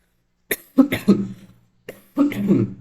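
Several rough coughs nearby in two bursts, with a brief pause between them and no talking.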